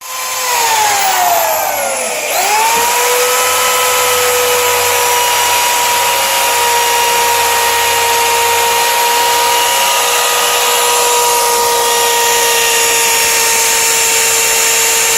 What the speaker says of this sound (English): So just going to drill some holes so the bolts will go through